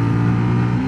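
A 2022 Sinnis GPX 125 motorcycle engine hums steadily with a loud, close droning tone as the revs ease off during riding, a brief sustained engine note with no talking.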